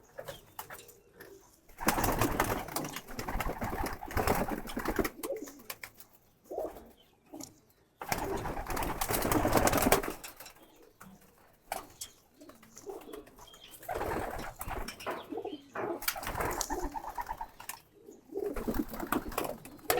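Several pigeons coo in low, bursting phrases separated by quiet gaps, with faint rustling and wing flutters between calls.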